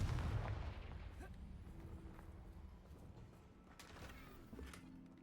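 A Confringo fire spell blast in the Hogwarts Legacy video game, a heavy low boom at the start that rumbles and fades under a layer of game sounds and faint thuds.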